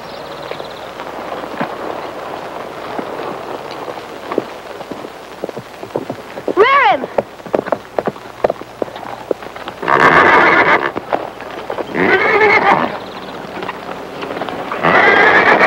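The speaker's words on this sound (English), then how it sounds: "Been a long time since I've been on a good horse." A ridden horse whinnies loudly several times, with hoofbeats clip-clopping and rustling in between and faint talk early on, in a 1946 Western film scene.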